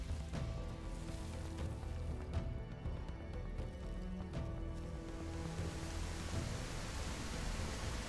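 Heavy rain in the video game The Isle pours in a dense, steady hiss, with a few sharp crackling hits along the way, and no talk over it.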